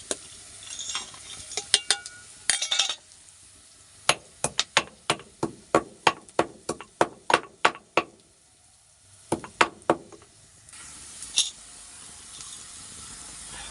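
Nutmeg gets crushed in a home kitchen, making a series of sharp, close pounding knocks in a fast, steady rhythm, with brief pauses between bursts of strikes.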